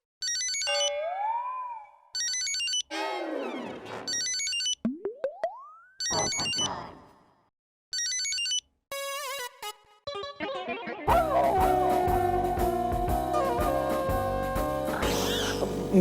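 A phone ringing on and on with no one picking up, a string of tonal electronic chirps and cartoonish sound effects leading into a sustained, dense musical ring tone that keeps going.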